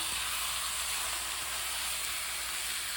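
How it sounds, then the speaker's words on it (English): Shaved steak sizzles steadily in a hot pan, a dense, even hiss holding at the same loudness throughout with no talk over it. "I am just going to cook some shaved steak"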